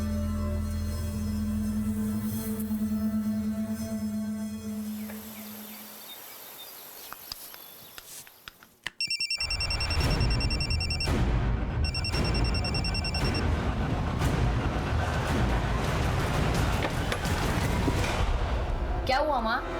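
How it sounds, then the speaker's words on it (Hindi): A mobile phone rings in a home during a Hindi crime drama, an electronic ringtone with repeated high beeping tones over dense background music and scene noise, following earlier indoor talk. "मुझे यहीं कहीं से मोबाइल की आवाज आई।"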